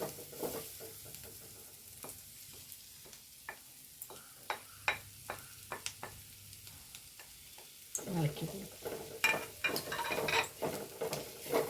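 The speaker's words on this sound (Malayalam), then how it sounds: "ഒന്ന് ഇളക്കി കൊടുക്കട്ടെ" A spatula stirs okra and horse gram stir-fry with grated coconut in a pan, giving a string of soft scraping knocks over a low sizzle, then busier, louder stirring in the last few seconds.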